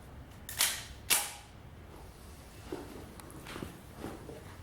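Two sharp shots from a Springfield 9mm pistol fired into a bullet trap, close and snappy about half a second apart, followed by quieter clanks and shuffling sounds.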